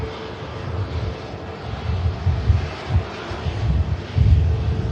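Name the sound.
Ryanair aircraft departing Manchester Airport to Brussels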